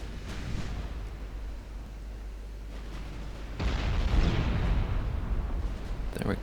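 Heavy battleship shells landing hits in Ultimate Admiral Dreadnoughts, a rolling low rumble of naval gunfire that swells into a louder, broad crashing burst of impacts partway through, fairly distant and continuous.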